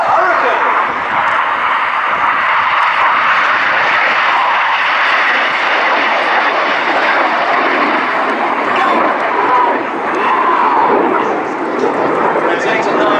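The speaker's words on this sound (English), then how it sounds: "bring your eyes further right now to find this is the Hurricane" A Hawker Hurricane fighter flies past at an airshow, its engine a steady, loud broadband roar that holds for the whole stretch with no clear rise or fall, under a commentator's voice.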